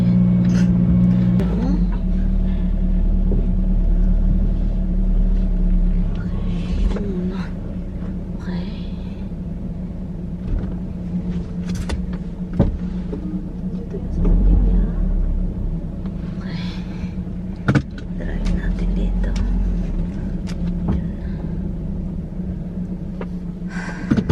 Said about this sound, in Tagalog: Ilabas ko lang itong sasakyan.